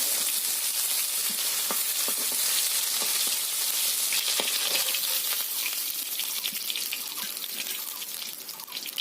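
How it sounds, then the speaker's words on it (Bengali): Fish pieces frying in oil make a loud, constant hissing sizzle with occasional stirring taps, close up and without speech. "এতে এইভাবে একে একে সব মাছগুলো ভেজে নিতে হবে"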